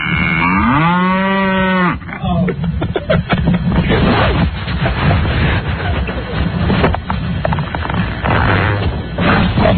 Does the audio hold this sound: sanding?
no